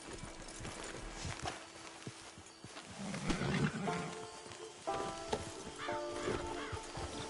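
Hoof clip-clops from a horse in a Red Dead Redemption 2 game scene, mixed with animal snorts and growls over a layered ambient background; faint music-like tones later.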